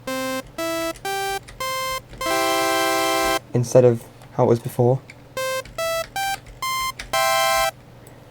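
An 8-bit chiptune synth melody built in FL Studio, with a second saw oscillator added to thicken and deepen the tone, plays as a sequence of bright, sustained stepped notes, with someone briefly talking partway through.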